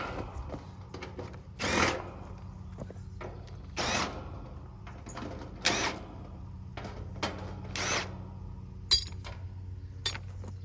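Power screwdriver backing screws out of the sheet-metal front panel of an air conditioner being scrapped, several short whirring bursts spaced about two seconds apart, with light metallic clinks and handling noise in between.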